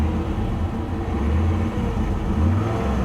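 A poorly running engine on a 2006 Chevy Impala SS idles as a steady, loud low rumble with slight uneven surging, close up and with no talk.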